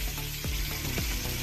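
Chopped onions hit hot oil already seasoned with dried red chillies and bay leaves for a rohu fish curry, giving a steady dense sizzle with a few brief stirring sweeps, close and alone.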